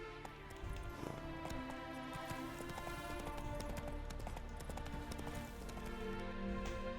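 Horse hooves clip-clop steadily at a gallop in The Witcher 3, a continuous rhythmic beat close up with no talk over it.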